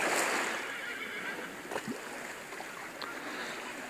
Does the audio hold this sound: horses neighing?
yes